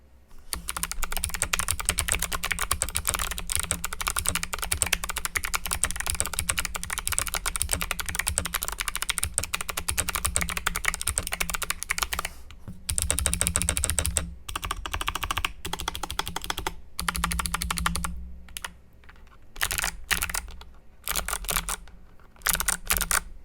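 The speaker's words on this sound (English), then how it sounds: "I'm not a really big fan of how this keyboard sounds stock, especially with the Kale Box Jades" Rapid, continuous clicky typing on a stock GMMK Pro 2 mechanical keyboard with Kailh Box Jade clicky switches, close and loud, with a few brief pauses and bursts toward the end.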